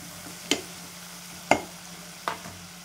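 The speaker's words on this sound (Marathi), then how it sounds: "तेलामध्ये मी हळद टाकून घेते," Turmeric frying in oil in a pan, with three distinct stirring scrapes or taps about a second apart over a faint, steady sizzle and a low hum.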